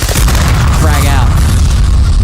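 Frag grenade exploding in a shooter video game, a loud, deep, sustained boom with rumbling low end filling the whole moment, close and heavy.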